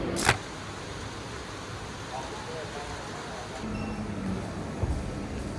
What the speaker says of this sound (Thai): รถไฟมาพอดีเลย ถ่ายรถไฟดีกว่า